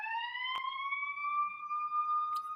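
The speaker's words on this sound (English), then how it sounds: "Started up right outside my window. Yeah, the daily siren." A siren sounds right outside a window, a sustained wailing tone that rises slightly and holds steady, heard alone at a moderate distance with a couple of faint clicks.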